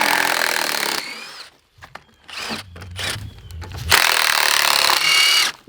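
A power drill backs screws out of old wooden concrete form boards outdoors, with loud whirring bursts broken by pauses, knocks and creaks of wood, near and in the open.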